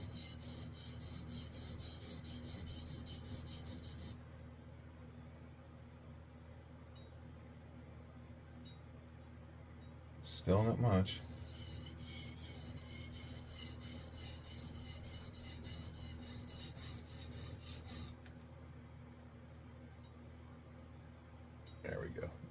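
A Japanese chef knife is worked on a whetstone, giving a close, steady gritty rasp of steel on wet stone in long strokes. Brief clinks break it partway through, and someone speaks softly at one point.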